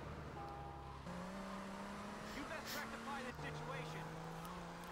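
Fast car driven in the video game GTA Vice City Stories, a steady engine drone with pitch shifts as gears change, continuous and fairly loud, with someone talking over parts of it.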